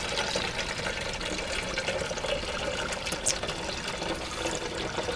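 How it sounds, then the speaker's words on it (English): Apple juice pours from cans through a funnel into a fermenting container for hard cider, a steady continuous splashing gush from start to finish. "So pouring the apple juice right into the container we're going to use to ferment this in."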